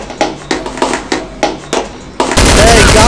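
Counter-Strike 1.6 machine gun fire: a steady series of loud, evenly spaced shots, about three per second, then a dense continuous roar of rapid fire near the end.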